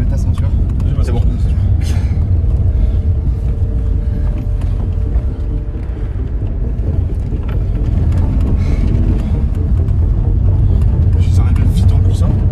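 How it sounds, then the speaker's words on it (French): A car accelerating and speeding away from a military base while exploring, with a loud, rough engine roar and wind rumble filling the cabin and people talking over it throughout. "on démarre la voiture et on trace le plus vite possible"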